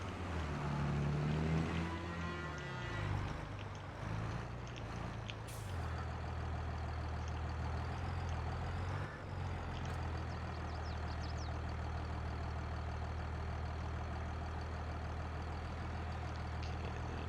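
A tractor in a farming video game idles and rumbles with a low steady engine drone, and a brief hiss and shifting tones come early before the sound settles into a constant hum.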